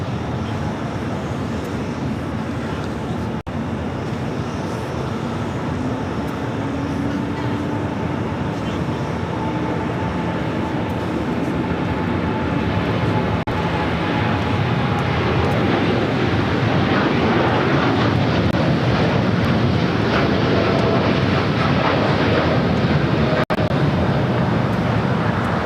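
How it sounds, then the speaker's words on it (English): Japan Airlines Boeing 787-9 Dreamliner taking off at LAX for Osaka: a sustained, building jet roar with a faint whining tone, loud and continuous, swelling in the latter half. "This is Japan Airlines Flight 69 taking off to Osaka on the 787-9 Dreamliner"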